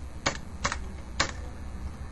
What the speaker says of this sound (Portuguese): observe como eu estou digitando